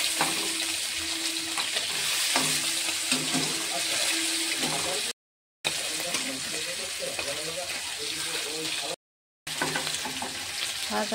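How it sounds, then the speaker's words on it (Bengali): Pieces of hilsa fish fry in hot oil one at a time for biryani, a steady close sizzle and crackle with occasional stirring, broken by two short silent gaps. "মাছগুলো একটা করে ভেজে নেব।"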